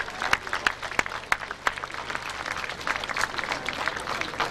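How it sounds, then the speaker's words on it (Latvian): Outdoor crowd applauding to thank visiting friends from the Swedish twin town of Hedemora at a European flag-raising ceremony in Bauska, with steady clapping throughout and a few sharper claps standing out. "Paldies draugiem ar aplausiem!"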